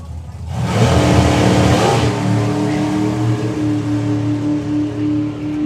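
Drag racing cars roar on throttle at the Festival of Power UK Super Comp event, a loud, sustained engine howl that swells quickly and then holds steady with a droning, slightly wavering tone.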